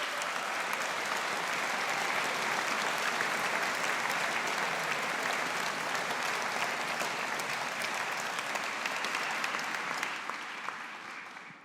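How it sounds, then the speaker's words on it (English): Sustained applause from the audience at a university business school graduation ceremony, a dense, steady roar of many hands clapping for about ten seconds before tapering off at the end, with no talk over it. "I want you to give them a very appreciative and loud round of applause."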